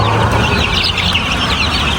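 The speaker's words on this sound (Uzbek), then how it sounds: "Jo'jamiz hozirgi mashhur jo'jamiz 20 kunlik jo'ja." Dense chorus of 20-day-old chicks clucking and peeping together, loud and continuous from a crowded flock close by, with no pauses.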